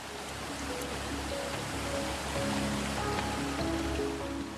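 An Alpine waterfall in the Styrian mountains gives off a constant, soft rushing hiss of falling water, steady and fairly distant throughout, with no speech.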